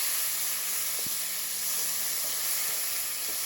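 Swiss chard sizzles steadily in a hot pan, a bright continuous hiss with a few faint clicks and taps of stirring.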